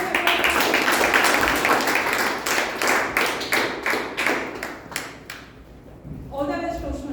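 Applause from a Toastmasters meeting audience, dense overlapping claps that thin out and fade over several seconds before a voice starts speaking near the end.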